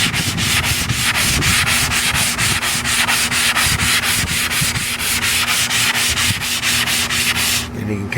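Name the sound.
sanding a French Provincial dresser by hand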